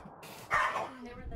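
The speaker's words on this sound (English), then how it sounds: "The dogs are scaring me" A dog bark sounds in a horror video game, one sharp loud yelp rising abruptly midway through a brief moment of quiet rumbling ambience.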